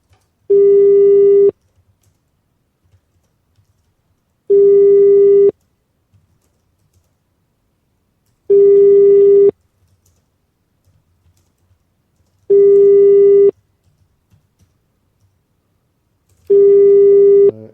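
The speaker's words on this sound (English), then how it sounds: "We're trying to phone Benny Boy." Telephone busy signal heard while placing a call: five evenly spaced one-second tones separated by silence, loud and clear with no talking over them.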